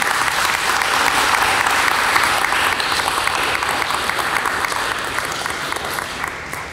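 A crowd at a junior honor society induction ceremony applauds in a sustained, even wash of many hands, loud and continuous throughout before easing slightly at the close.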